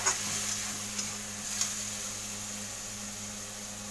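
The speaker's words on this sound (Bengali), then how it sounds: "এবার আমি মশলাটা কষা হয়ে গেছে, আমি এবার জল দিয়ে দেবো কিছুটা।" Water poured into a pan of spice masala with ginger paste sets off a steady hiss of sizzling, close and continuous with a few faint clinks of utensils.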